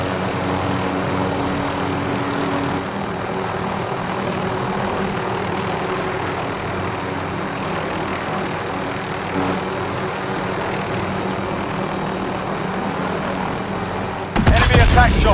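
An aircraft flies in Call of Duty Warzone, its engine a steady, loud droning roar that holds almost unbroken before a sudden burst of louder noise at the end.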